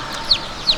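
Chicken in Vietnam giving two short, bright clucks about a third of a second apart, close by over low background noise.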